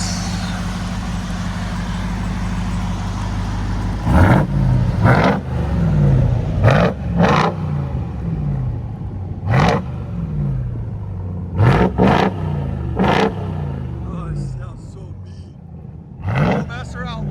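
A 2023 RAM TRX with a supercharged 6.2L HEMI V8 and Flowmaster Outlaw exhaust idles with a deep rumble, then blips its throttle in about eight sharp, loud revs that rise and fall quickly. Voices can be heard faintly nearby.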